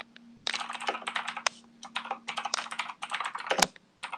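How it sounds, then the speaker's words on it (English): A computer keyboard is typed on nearby, entering a command on an Ubuntu server, with fast irregular bursts of clicking keys broken by short pauses and a faint steady hum underneath. "So this will be the next command I type."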